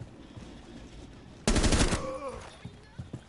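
A sudden burst of rapid gunfire in Rainbow Six Siege, loud and close for about half a second, then fading into a ringing tail with a few faint thuds afterward.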